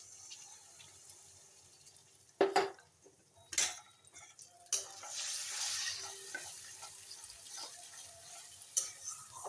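Ginger, cumin, ground spices and asafoetida fry in hot oil for potatoes, a soft, low sizzle broken by a few sharp clinks and scrapes of stirring, close and fairly quiet.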